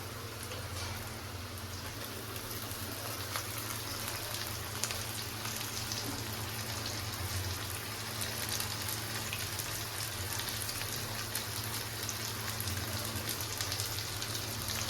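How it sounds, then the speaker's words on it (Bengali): Ginger-garlic paste frying in a pan over fried onions for a country chicken and papaya curry, giving a steady, dense sizzle that holds level throughout with no talk. "এবার আমি আদা রসুন পেস্ট যেটা করে রেখেছিলাম সেইগুলো এখন দিচ্ছি"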